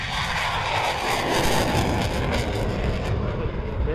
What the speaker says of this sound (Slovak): lietadlo JAS 39 Gripen vzdušné sily armády Českej republiky